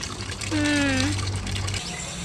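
Tap water runs into bottles and jugs, a steady rushing stream with a rising tone as a vessel fills, lasting about two seconds before it stops, close by and fairly loud.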